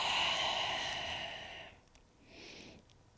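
A long, audible breath out during a runner's yoga stretch. It is close and breathy, fades after a second and a half, then a softer second breath follows in a quiet room.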